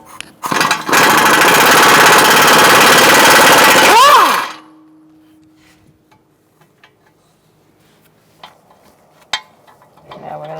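Power tool with a 15mm socket spinning the nut off a pinch bolt on a Buick Encore during front CV axle work, giving a loud, harsh buzzing burst of about four seconds that winds down, then faint clinks and knocks.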